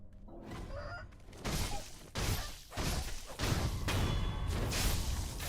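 Chicken clucking in the video game Sekiro, mixed with whooshing sword swipes and impact hits, several loud bursts in quick succession.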